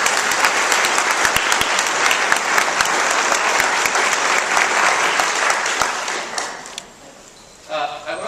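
An audience applauds Mayor Hibbert at a church gathering, with steady, dense clapping for about six seconds that then fades out. A voice begins talking near the end.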